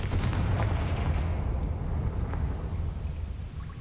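Confringo blasting spell cast in Hogwarts Legacy, a loud rumbling explosion with a heavy low boom that rolls on and slowly fades, alone without talk.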